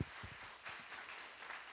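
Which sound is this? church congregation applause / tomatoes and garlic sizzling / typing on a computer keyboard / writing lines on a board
church congregation applause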